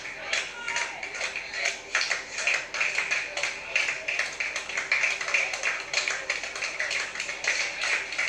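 Spectators at a wrestling event clap in ragged, uneven bursts, the claps pulsing roughly but never locking into a shared beat, fairly loud and close, while someone talks over them.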